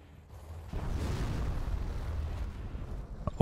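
An anthrax bomb from a real-time strategy game detonates in a deep, sustained explosive rumble lasting a couple of seconds, ending in a sharp crack.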